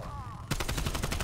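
Rapid automatic gunfire from Call of Duty Cold War bursts in after a short quiet lead-in, a fast even rattle of close, loud shots lasting about a second.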